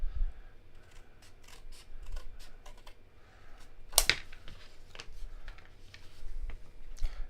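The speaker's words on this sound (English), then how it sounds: "So I'm going to just roughly cut out the same kind of shape." Scissors roughly cutting out terrain base shapes for wild west tabletop scenery, many quick close snips in an irregular rhythm, fairly quiet, with one sharper louder cut midway.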